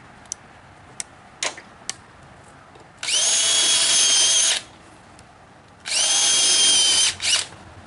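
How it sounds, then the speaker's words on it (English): A power drill bores shallow holes into a wooden porch swing frame post, two loud sustained whining bursts of about a second and a half each, close up, preceded by a few sharp taps and clicks. "we'll just drill holes just enough to penetrate the post"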